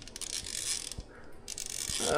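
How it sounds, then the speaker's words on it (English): Ratcheting wrench tightening the drain plug on a Jeep Compass during a fluid change, giving a few close metallic clicking bursts with short pauses between them. "So we're going to tighten the drain plug back up."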